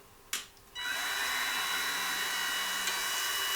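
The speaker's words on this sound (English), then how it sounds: "So I like to come in here and take my Dremel" A Dremel rotary tool, used on a 1/10 scale RC truck build, spins up after a sharp click and then holds a steady high-pitched whine close by.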